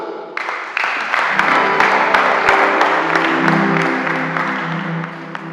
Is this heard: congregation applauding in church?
yes